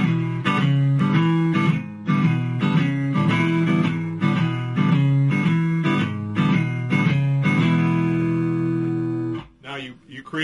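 Shuffle guitar part in E, a palm-muted bass line on the downbeats interleaved with upstrokes on the open strings, played at a steady rhythm, close and loud, ending with a sustained chord and a brief pause.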